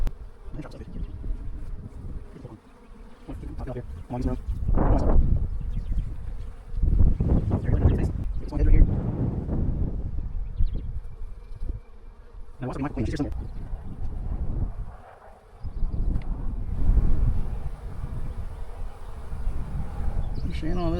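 Honeybees buzz around an open hive during a beginner's hive inspection, a steady insect drone mixed with wind noise and handling sounds, while someone talks over it.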